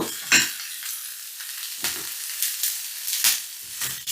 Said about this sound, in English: Medium heat. Just keep stirring.